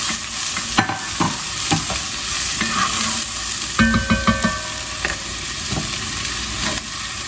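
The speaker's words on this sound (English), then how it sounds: "Then we're going to stir this up and remove it from the pot." Soffritto for Bolognese sauce sizzles steadily in a pot while a spoon stirs and scrapes through it, with several sharp knocks against the pot and no talk.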